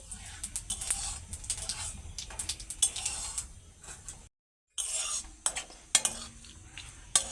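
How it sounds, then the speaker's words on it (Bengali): Whole garam masala and cumin frying for tempering in a pan for a vegetarian jackfruit dish, heard as scraping and clinking stirring over a low sizzle, close up, with a short silent gap midway. "ফোড়নটাকে ভালো করে ভেজে নিচ্ছি"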